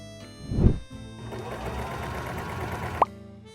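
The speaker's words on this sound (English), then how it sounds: "Now I'm going to overlock the back seam, sew it," An overlock sewing machine whirs steadily for a couple of seconds after a soft thump, stitching the back seam of a half circle skirt, then stops abruptly with a short squeak.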